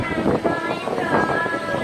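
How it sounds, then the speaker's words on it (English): Steady wind rushes and buffets close to the microphone for a couple of seconds outdoors at the Peppa Pig Theme Park in Orlando, with a faint tonal hum running underneath. "It's nice and windy out too, so we're getting a nice breeze."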